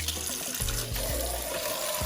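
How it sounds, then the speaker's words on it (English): Cold tap water runs steadily into a bowl that has just been emptied of warm egg-boiling water, a continuous close splashing rush with a few sloshing bumps and no talking. "pour out this warm water that the eggs are sitting in and fill it up now with some cold water"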